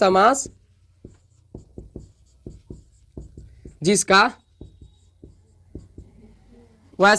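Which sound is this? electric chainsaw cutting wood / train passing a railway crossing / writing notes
writing notes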